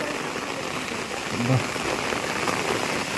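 Heavy rain falls at midnight on a village lane near a panchayat office, with wind and dust. The downpour hisses steadily and fairly close throughout.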